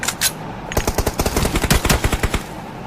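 Rapid automatic gunfire rattles through a video game team deathmatch, a loud close burst of evenly spaced shots after a brief opening crack.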